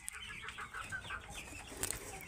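Fayoumi hens and roosters on a poultry farm cluck and chatter softly at a distance, with a few sharper calls toward the end over a quiet background.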